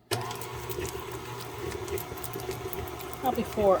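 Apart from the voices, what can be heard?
electric stand mixer creaming butter, Crisco and cream cheese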